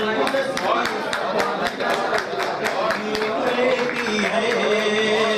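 An audience at an Urdu mushaira claps along in a brisk, even rhythm of sharp claps that continues under a man reciting through a microphone.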